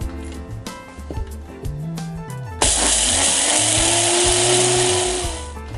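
Enpee blender milling whole grain into flour, a loud, continuous high-speed motor roar that jumps abruptly to a brighter, harsher whine partway through, with background music underneath.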